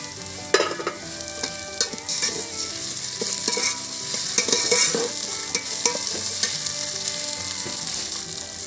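Spices and ginger-cumin paste fry loudly in a pan for a mutton curry, a continuous sizzle broken by frequent stirring scrapes and clinks close up.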